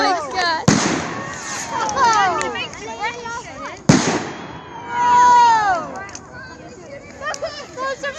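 Rocket fireworks on sticks launch outdoors, whistling and screeching upward with sharp bangs, while people talk and exclaim excitedly throughout.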